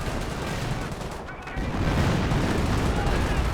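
Artillery and gunfire from the strategy game Company of Heroes rumble in a continuous dense barrage of booms and crackling shots, loud and close throughout, with a voice talking over it.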